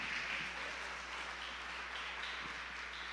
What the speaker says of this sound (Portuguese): Aplauda ao Senhor mais uma vez.